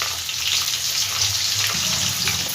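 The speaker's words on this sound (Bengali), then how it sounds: "এবার এই তেলের মধ্যে আলুগুলো সব আমি দিয়ে দেবো, আলুগুলো একটু ভেজে নেব" Potatoes hiss and bubble as they fry in hot oil for a Bengali shola kochu dish, a steady close-up sizzle that stays even throughout with no talk.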